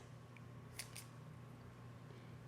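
Scissors snip through vegan no-chicken ingredients, two quick, faint cuts close together against a quiet background hum.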